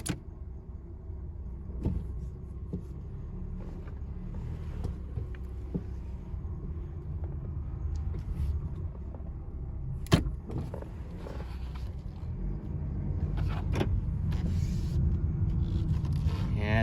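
A Honda HR-V, suspected of a bad idler pulley on the serpentine belt, runs in gear with a steady low engine drone. Occasional light clicks and scrapes sound over the hum, which grows slightly louder toward the end.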